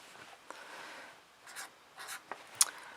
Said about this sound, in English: I'm just going to draw like a little heart or something like that for each of them